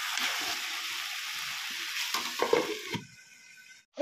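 Fish fries in a pan of hot oil with a close, steady sizzle and a few stirring knocks, then the hiss drops away abruptly near the end, leaving quiet with a faint clink.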